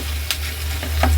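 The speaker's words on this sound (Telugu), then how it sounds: "నేను నెయ్యితోనే పోపు వేస్తానండి మా ఇంట్లో" Seasoning for cucumber dal tempers in hot ghee on a stove, giving a loud, steady close-up sizzle with a few brief crackling pops and stirring scrapes.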